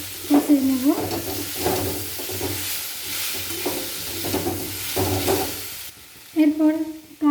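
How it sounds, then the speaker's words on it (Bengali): Ground coriander, cumin and chili powder being stir-fried in a pan for a fish-head moong dal, with scraping stirs and a steady sizzle in bursts, louder toward the end. "এরপর সব মশলাগুলো ভালো করে কষিয়ে নেব।"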